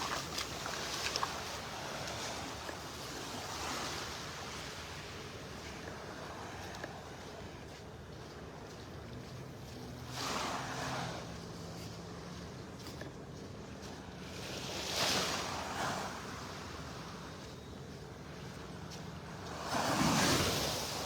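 Small, gentle ocean waves roll in on a calm morning beach in North Naples, Florida, with a soft continuous wash and several louder surges spread out over time, mixed with light wind noise on the microphone.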